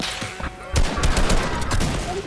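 Bursts of rapid gunfire in the video game Fortnite crackle loudly through the clip, with repeated shots overlapping in a dense, continuous volley.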